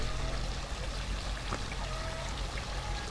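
Water running through the filtration of a crayfish pond, a close, steady pouring and trickling stream with small splashy drips over it and no voices.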